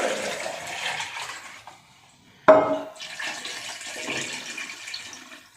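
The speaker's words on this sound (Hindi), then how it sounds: "ये 4 लीटर इसके अंदर पानी शामिल कर दिया मैंने" Water pours steadily into a cooking pot for mutton paya, a continuous splashing rush that pauses, then resumes with a sharp clank and keeps flowing.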